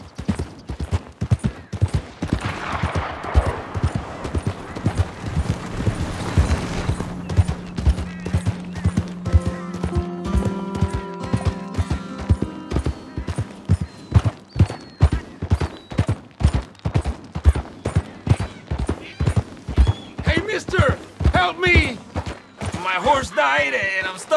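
Regular hoofbeats of a horse in Red Dead Redemption 2 run throughout, close and rhythmic, with a voice talking over the early part and some mechanical clicks near the end.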